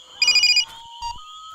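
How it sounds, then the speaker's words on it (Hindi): A mobile phone ringtone plays a short, loud burst of bright electronic tones, then a brief quieter beeping follows, with no voices present. "तेरा फोन है."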